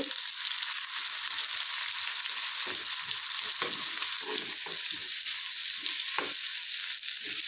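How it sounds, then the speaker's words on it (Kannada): Onions and cumin fry in a pan with a dense, steady sizzle throughout, close and fairly loud, broken by occasional scraping stirs and no talking. "ಈರುಳ್ಳಿ ಎಲ್ಲ ಚೆನ್ನಾಗಿ ಕಲರ್ ಚೇಂಜ್ ಆಗೋವರೆಗೂ ಫ್ರೈ ಮಾಡ್ಕೋಬೇಕು"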